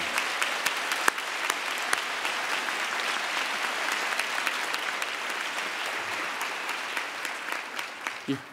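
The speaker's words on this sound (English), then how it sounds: "Would you recognize them with a thunderous applause with me?" Thunderous audience applause at a university commencement ceremony; a broad, sustained wash of clapping holds steady for several seconds with a few sharper claps standing out, easing off at the very end.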